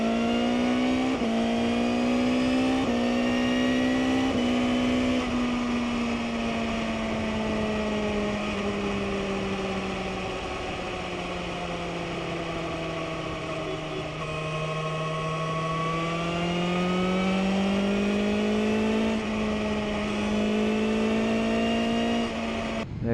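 A motorcycle fitted with an Akrapovic exhaust revs repeatedly, its engine note climbing and falling in long sweeps, loud and close, with no talk over it.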